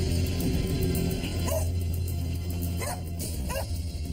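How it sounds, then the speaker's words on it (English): A dog barks a few times in short separated bursts, with whimpering yips in between, during the aftermath of the Kobe earthquake, heard over a steady low background hum without any speech. "She barked and stopped,"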